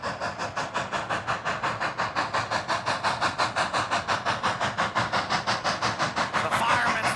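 Cumbres & Toltec steam locomotive 484 chuffs hard up a steep grade of over 4%, a steady fast beat of exhaust blasts with hiss, loud and close, working continuously throughout.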